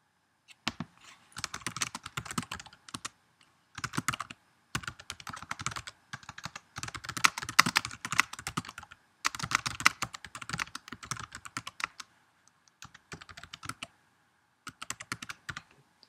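Bursts of rapid keystrokes on a computer keyboard while a message is typed, with brief pauses between runs of clicking; close and clear with no talking.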